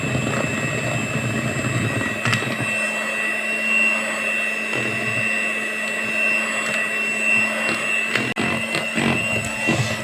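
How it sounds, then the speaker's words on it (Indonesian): An electric hand mixer beating egg yolks into margarine for a lapis legit layer cake batter, a steady loud motor whine with constant tonal hum throughout, occasional clatter, no talking. "lanjut kita mixer lagi sampai kuning telurnya ini benar-benar kecampur rata sama margarinnya"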